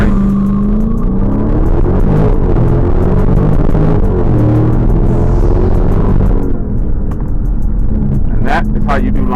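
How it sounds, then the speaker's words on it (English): A 2018 Dodge Charger Scat Pack launching at full throttle under launch control: a loud, close engine roar rising through the gears, with shifts audible as steps in pitch and a voice talking over it near the end. "And that is how you do launch control."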